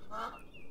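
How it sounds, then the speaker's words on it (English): A duck gives a single short, nasal honking quack, fairly faint and a little distant, with quiet outdoor background. "Little duckies."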